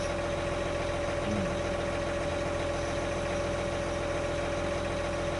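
A Case tractor engine runs steadily at a low, even idle, a constant mechanical drone with a faint hum throughout and no talking.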